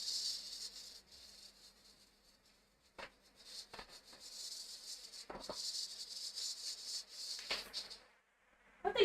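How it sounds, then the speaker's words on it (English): A cicada flying around inside a house gives a buzzing drone that comes and goes in irregular bursts, close to the microphone and otherwise alone. "No, it's a cicada. It's currently flying in the house."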